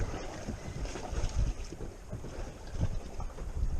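Strong wind buffeting the microphone in low, rumbling gusts on a fishing boat over a Florida Keys patch reef, with water and boat noise underneath and no talking.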